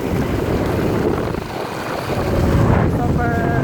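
Heavy rain pours down in a steady, dense roar, mixed with gusty wind buffeting close to the microphone, while a voice talks over it.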